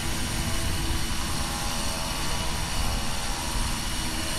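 A Box Long Wing model plane drones at full throttle, a steady, loud, unbroken engine buzz holding constant throughout with no voices.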